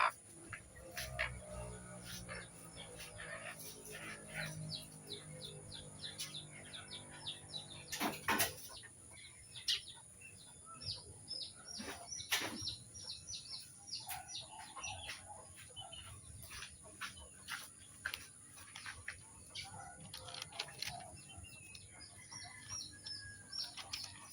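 Six chicks peeping and cheeping alongside clucking hens and a brief flutter of wings, quiet and fairly distant, the chirps scattered irregularly over a faint background hum.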